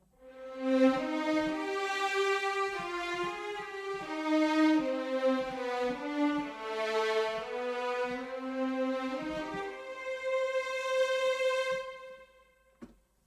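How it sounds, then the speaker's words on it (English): A sustained bowed violin line with smooth, connected notes and gentle vibrato plays alone, ending with a soft click. "Let's load up the old legato violin."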